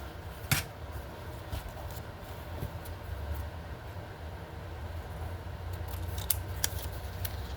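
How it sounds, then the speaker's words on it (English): Scissors trimming a paper collage strip: a few sharp, close snips scattered over a steady low background hum, with one crisp cut near the start and a couple more near the end. "Okay, so now I'm going to trim this one."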